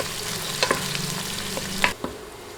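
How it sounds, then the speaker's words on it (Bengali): Sliced onions with whole spices sizzle softly in hot oil while a spatula scrapes and stirs them in a few distinct strokes, close and fairly quiet. "এবার নেড়ে নেড়ে বাদামি করে ভেজে নিব।"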